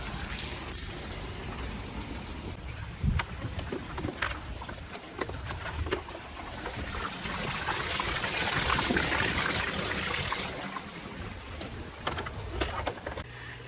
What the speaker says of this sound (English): We'll start draining some water out of there.